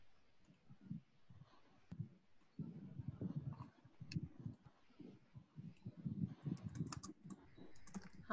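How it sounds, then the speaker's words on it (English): Light, uneven typing on a computer keyboard, a run of soft key taps with short pauses, faint and close by. "I'm just typing hi everyone"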